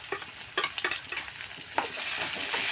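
Tomato and curry leaves drop into onions frying in a pan, with scattered stirring clatters over a steady sizzle that swells louder and hissier near the end; no one speaks.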